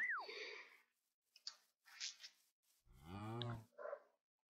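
A Minecraft cow gives a loud, low, drawn-out moo near the end, following short game clicks and soft sound effects, with no talking over it.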